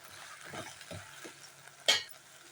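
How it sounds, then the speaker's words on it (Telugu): A spoon scrapes and stirs okra with turmeric in a pan, a few soft strokes over a faint sizzle, ending in one sharper metallic clack. "పసుపు వేసుకుని బాగా కలుపుకుందాం"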